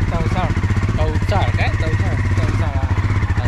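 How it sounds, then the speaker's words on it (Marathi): A motorbike ridden along a road in the Konkan countryside near Chiplun, its steady low engine drone running continuously beneath close, ongoing conversation between the riders. "मल्हार चालवतोय बाईक"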